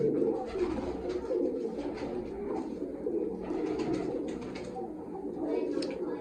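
Pigeons coo in low, repeated murmurs close by, a continuous soft rumbling chorus with faint chirps above it.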